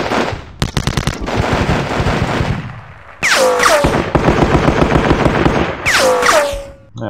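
Gunfire in the Sealion '40 John Tiller wargame: dense rapid machine-gun bursts and crackling volleys, loud and close, with a short pause and then more firing mixed with descending whistling tones.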